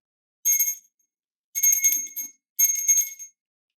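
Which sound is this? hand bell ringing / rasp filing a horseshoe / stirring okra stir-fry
hand bell ringing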